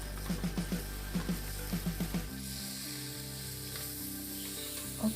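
Black chickpea sundal is stirred in a frying pan over a steady, quiet sizzle, with a few soft spatula taps early on.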